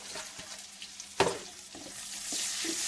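Cardamom pods drop into hot oil with onion and cinnamon, giving a steady close sizzle with a sharp crackle burst partway and a rising hiss toward the end.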